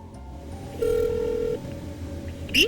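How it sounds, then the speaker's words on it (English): A phone dials a number for a UPI payment service. There is one sustained keypad tone followed by a short higher beep, faint and close, with no speech. "I need to dial the number 6366 200 200."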